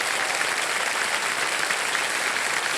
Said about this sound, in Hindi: दिव्य संजय एक बार फिर जोरदार तालियां बज जाएं हमारे वर्ल्ड कप चैंपियंस के लिए